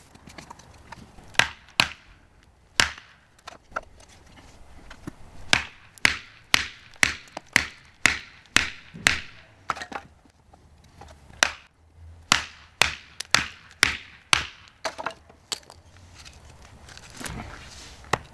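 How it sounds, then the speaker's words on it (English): A TFK Pico knife is batoned through a piece of wood, producing sharp, hard knocks that come singly and in quick runs of strikes across the whole stretch, close and loud against quiet. "The Pico hammered through the wood with ease"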